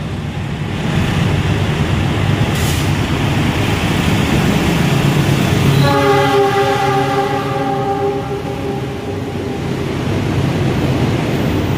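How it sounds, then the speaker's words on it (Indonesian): Gajayana passenger train from Gambir to Malang passing through Lempuyangan station, a steady loud rumble of rolling wagons throughout, with a sustained multi-tone horn sounding from the middle onward, no talk. "Kereta api Jakarta dari Pasar Senen ke Surabaya Gubeng berhenti di Lempu Wuyangan cukup lama untuk disusul Gajayana dari Gambir ke Malang."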